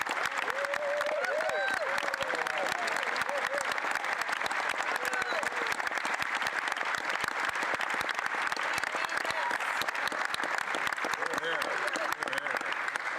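Sustained applause from a parliamentary chamber during a finance minister's budget speech, steady dense clapping from many hands filling the room, with cheering voices mixed in throughout.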